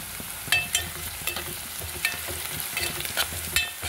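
Chopped onions frying to brown in a pan for an Andhra-style bottle gourd dal, a soft steady sizzle broken by a few sharp scrapes and clinks of the stirring spoon, fairly quiet and close, no voices.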